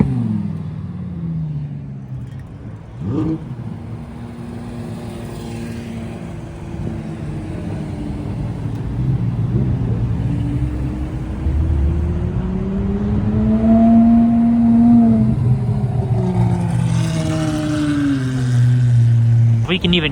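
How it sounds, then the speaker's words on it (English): Loud Lamborghinis, including a Huracán STO and an SVJ, pulling into a car meet in Tokyo, with rumbling engines that rise and fall through revs over about twenty seconds and crowd voices talking throughout. "when Loud Lamborghini's pulling to a car meet, they're drawing quite a big crowd"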